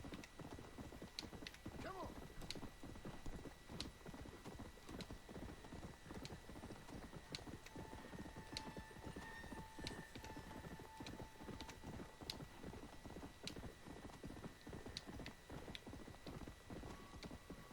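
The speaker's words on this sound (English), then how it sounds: "I'm just managing my horse's stamina. Making sure I don't tire him out. And I keep going fast." Rapid clip-clop hoofbeats from a galloping horse ridden at speed in Red Dead Redemption: Undead Nightmare, a steady driving rhythm with game music and ambient tones underneath throughout.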